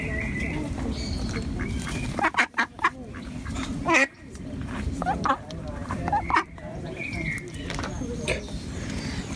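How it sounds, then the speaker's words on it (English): A pet duck quacks in short, loud bursts outdoors by a lake, with bird calls and voices mixed in against a steady background of wind or ambient noise. "It's my new pet duck."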